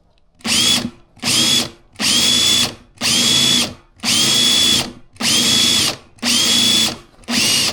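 A motorized drain cleaning machine clearing an apartment sink pipe whirs loudly in eight repeated bursts, each spin running about half a second to a second with brief pauses between.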